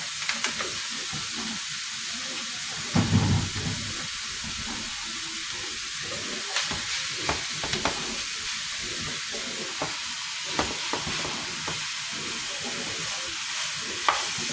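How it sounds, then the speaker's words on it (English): Hamburger meat fries in a skillet with a continuous close hiss and crackle, broken by occasional soft scrapes and small bumps, with no voices. "right here I got my skillet going"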